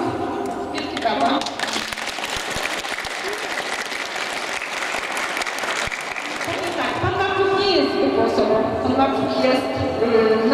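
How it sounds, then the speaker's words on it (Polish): Audience applause for a young violin student at a Polish folk culture event in Leśna Podlaska, a dense burst of steady clapping lasting several seconds before a voice and music rise over it near the end. "Wielki brawa"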